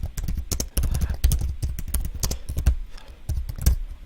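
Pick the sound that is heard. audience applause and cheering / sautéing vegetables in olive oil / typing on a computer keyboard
typing on a computer keyboard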